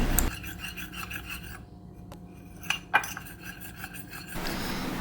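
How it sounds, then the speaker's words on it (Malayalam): Spoon stirring custard powder into milk until smooth, a steady rasping scrape of metal against the bowl with a couple of sharper clinks, close and continuous without talk. "ഇത് ഞാനിപ്പോൾ കട്ടയൊന്നും ഇല്ലാതെ ഇളക്കി എടുത്തിട്ടുണ്ട്"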